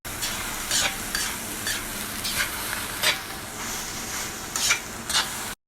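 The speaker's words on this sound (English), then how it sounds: "you put them in a wok or a dry frying pan, and these are going to get fried till they get brown" Steady frying sizzle of onions in a wok, with bursts of stirring and scraping, continuous and close, no voices.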